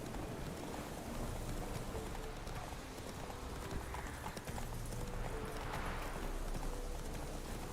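Horse hooves clip-clop at a steady gallop in The Witcher 3 game, a continuous rhythmic drumming with game music and ambience behind it, no one speaking.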